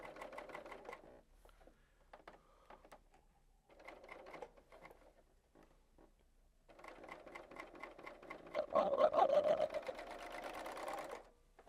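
A serger sewing machine stitching a fabric stocking runs in bursts of rapid mechanical whirring, pausing between short runs and then finishing with a longer, louder stretch, close and with no talk.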